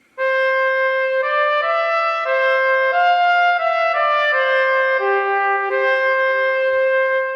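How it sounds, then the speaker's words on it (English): A smooth, sustained trumpet line from a Kontakt virtual instrument glides from note to note in a connected legato melody, bright and close, with no talking. "this is the sound of the trumpet"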